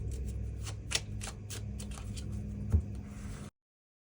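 Tarot cards being shuffled by hand, a steady run of soft papery riffles and flicks, close and fairly quiet, ending abruptly in silence.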